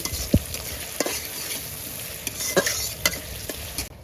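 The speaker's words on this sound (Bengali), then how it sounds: "বাজার তেলে আমি পেঁয়াজটা দিয়ে দিলাম এখন ভালোভাবে ভেজে নিব" Onions frying in oil for haleem, a steady close sizzle broken by the scrape and clack of a spoon stirring them every second or so, with no talking.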